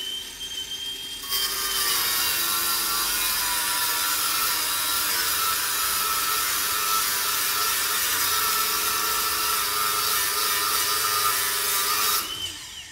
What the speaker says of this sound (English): We've got a standard cutting disc on the AG125, and remember our paddle switch here. So, short, sharp bursts of activity.